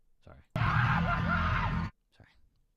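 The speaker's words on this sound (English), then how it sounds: "The scream." A loud, sustained scream sound effect rings out for over a second, with a wavering pitch, framed by quieter voices before and after.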